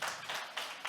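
An audience claps after a presentation at a data competition results event, a brief burst of dense, bright clapping that swells in a few pulses.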